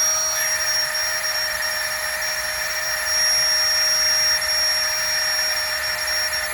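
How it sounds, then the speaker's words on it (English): A Flextail Tiny Pump 2X electric pump inflates a Vango Banshee 300 mat with a loud, steady, high-pitched whine that drones on unbroken at close range. "have you heard the noise of this? They could make it a little bit quieter, surely."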